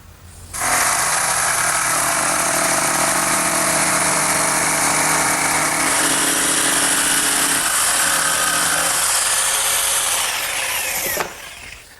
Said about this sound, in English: The jigsaw will do just as good a job.